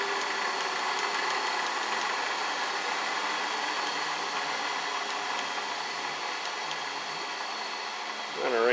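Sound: milling machine motor spinning down to low speed

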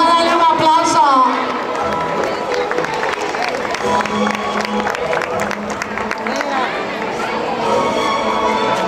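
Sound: audience applause

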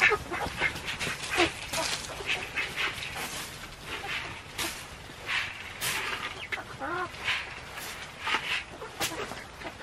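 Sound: chickens clucking

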